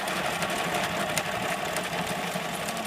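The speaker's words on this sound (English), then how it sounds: "Don't push your fabric on the machine, let the machine feed." A sewing machine runs steadily, stitching a fabric frill with a long stitch, its motor whirring continuously and evenly at close range without pauses.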